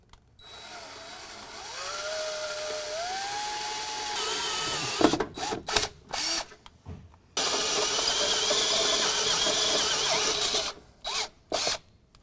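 A power drill bores into a truck frame in stepped bit sizes up to 9/16 inch, running in long whining bursts with a short stop-start pulse between them, loud and close with no voices.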